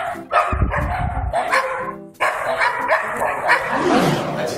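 Stray dogs bark repeatedly and loudly during an attack on a person in Bugulma, several overlapping yelps and barks in quick succession, close and chaotic, with scuffling noise underneath.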